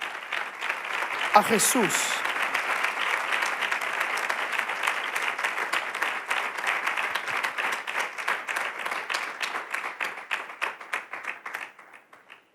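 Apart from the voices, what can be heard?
congregation applause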